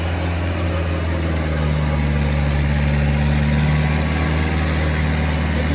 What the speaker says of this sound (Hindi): कितनी अच्छी परफॉर्मेंस ट्रैक्टर दिखा रहा। 10 फीट का रोटावेटर है